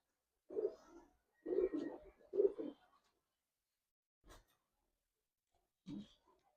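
Giribaz pigeons give several soft, throaty coos close by, in short bursts separated by quiet pauses.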